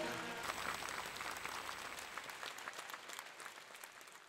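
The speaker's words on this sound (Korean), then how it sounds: "여러분 따뜻한 박수 부탁드립니다" An audience claps warmly at the 14th memorial rite for Empress Myeongseong at Sinwonsa temple on Gyeryongsan. Dense, sustained applause fills the space and then gradually thins and fades, with no speech over it.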